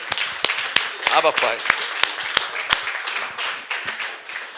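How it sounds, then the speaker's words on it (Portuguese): Sharp, distinct hand claps ring out in a church service, a loose irregular series of close claps under ongoing speech and voices, spaced unevenly and thinning out toward the end. "Mais uma salva de palmas a ele."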